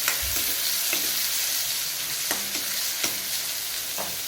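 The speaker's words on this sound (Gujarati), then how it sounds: "આદુ લસણ પેસ્ટ" Ginger garlic paste frying in a pan with onion and asafoetida, a steady broadband sizzle with a few soft stirring scrapes, close and continuous throughout.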